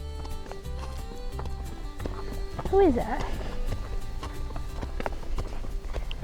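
Hooves clop in a slow, steady walking rhythm on hard ground, while a person speaks briefly and a horse snorts in the middle.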